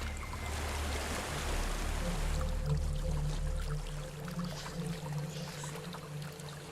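A waterfall in the video game Hellblade: Senua's Sacrifice, a steady rushing wash of water heard at moderate volume, fading slightly as a low tonal drone comes in partway through.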